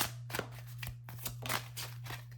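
Tarot cards being handled and drawn during a reading: a steady run of soft rustling and sliding card sounds with small flicks and taps, close and fairly quiet, over a low constant hum.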